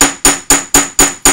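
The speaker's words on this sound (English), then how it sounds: "Again, just hammering the shoulders" Metal pieces are being hammered flat with five sharp, loud, evenly spaced hammer strikes that ring briefly, heard alone without talk.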